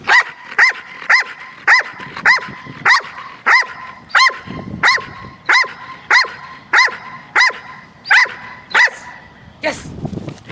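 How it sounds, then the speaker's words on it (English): Protection dogs bark on cue at a ball, giving about a dozen loud, sharp barks in a steady, evenly spaced rhythm close by. "We taught them how to bark on cue at the ball"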